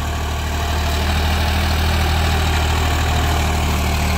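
A 2024 Sonalika DI 745 tractor diesel engine idles in a steady, heavy low rumble with constant vibration, close and loud and alone without talk.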